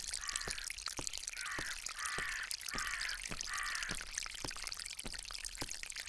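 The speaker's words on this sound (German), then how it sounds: "Der Springbrunnen, der sich hier so komisch anhört." A fountain splashes in a steady, quiet patter while an agitated bird in the Agatha Christie ABC Murders game caws in a run of harsh, repeated calls, joined by sharp drip-like ticks.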